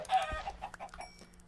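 Chickens in the video game Minecraft let out a few short clucks, soft and fairly brief, with a low faint hum underneath.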